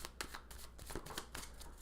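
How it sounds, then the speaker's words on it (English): A deck of tarot cards is shuffled by hand, a quick run of soft riffling slaps and flutters close up, quiet and alone. "Just give this a quick little shuffle here."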